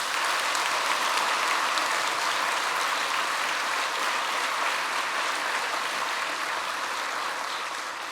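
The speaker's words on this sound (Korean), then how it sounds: "박수합시다." Sustained applause from a church congregation at a 50th anniversary thanksgiving service, steady and dense throughout, tapering slightly at the end.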